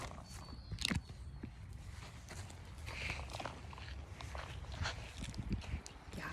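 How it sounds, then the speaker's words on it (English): Footsteps sound nearby, irregular soft thuds and scuffs at close range over a low background rumble, with no one speaking. "I literally hear footsteps."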